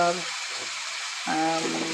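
Vegetables fry in a cooking pan, making a steady sizzling hiss that carries through the clip while a voice briefly sounds over it.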